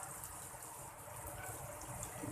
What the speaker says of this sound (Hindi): अब इसमें हल्का सा हम पानी का छींटा लगाएंगे।